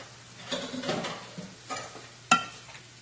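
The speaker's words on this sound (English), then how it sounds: "I'm going to grab a spoon so I can get that stirred up" A spoon stirs a baked spaghetti mixture in a dish, making a few soft squelching stirs and scrapes close by, ending with one sharp clink of the spoon against the dish.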